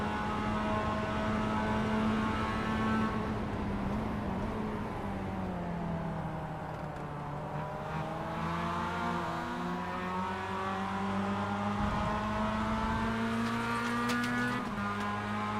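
A Mazda MX-5 Cup race car in the iRacing video game at Mid-Ohio, its engine droning steadily at high revs, with the pitch dipping and climbing as it shifts and accelerates, along with faint rumbles of other cars.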